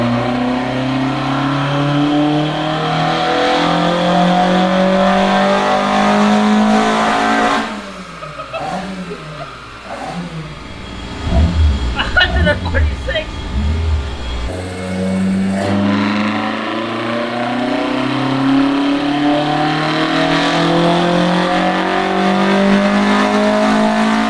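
Toyota AE86 with a 20-valve engine revving hard on a dyno, a loud sustained engine note climbing in pitch. It drops briefly mid-run with a rough, uneven stretch, then rises and holds at high revs again.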